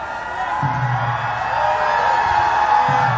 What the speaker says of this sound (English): Crowd not so silent with that one.